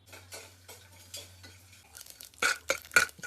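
Chana dal frying in a pan, heard as light scraping and stirring taps with soft patter, building into a few louder metallic scrapes toward the end, close and without talk.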